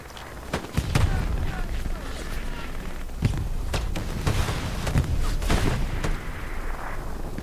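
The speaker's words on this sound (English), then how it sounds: "I hope these explosions aren't too overwhelming" Repeated sharp booms and blasts in a competitive video game match, some close and punchy, others softer, scattered over a continuous rumble of battle noise.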